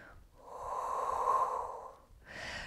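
An instructor doing a standing Pilates rotation breathes out hard and audibly through the mouth, one long forceful exhale, then begins a shorter breath, close and clear with no talking.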